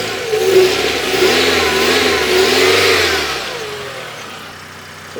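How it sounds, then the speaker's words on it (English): A car engine runs right after its dead battery has been charged. It revs up and down in a few swells before settling toward idle, loud and close with no talk. "you should have a working engine."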